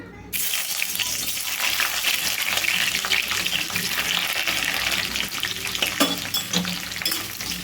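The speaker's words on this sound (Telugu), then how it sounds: "ఉల్లిపాయ ముక్కలు బాగా వేగాలండి" Chopped onion pieces fry in about three tablespoons of hot oil, making a continuous close sizzle and hiss, broken by a brief clatter of stirring near the end.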